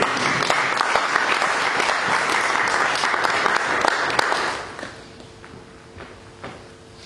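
A church congregation breaks into a sustained round of loud applause during a sermon, dense clapping that holds for about four seconds before fading quickly to scattered claps and room noise.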